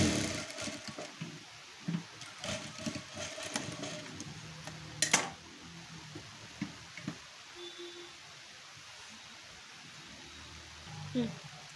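Sewing machine stitching a katori blouse, running in short bursts with faint mechanical ticking, close by and moderately quiet, with stops and small handling noises between runs.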